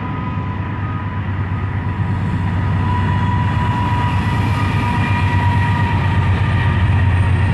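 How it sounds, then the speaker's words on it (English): A loud train rumbles past close by, a steady heavy roar with low droning hum and faint rail clatter throughout. "I always want to see the train as it comes through"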